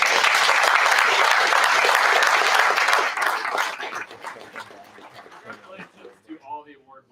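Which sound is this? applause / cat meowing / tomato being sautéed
applause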